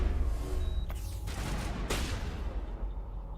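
Shotgun blasts in the Mass Effect game, a few sharp booming shots at about one and two seconds over a dense, rumbling battle background, with no talk.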